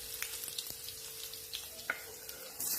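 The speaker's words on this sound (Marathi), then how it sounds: "लसूण आपल्याला छान तेलावर परतून घ्यायचंय" Garlic sautés in hot oil with mustard seeds and cumin for an eggplant and potato curry, giving a soft, steady sizzle with scattered pops and light clicks nearby. A louder burst of frying noise comes at the very end.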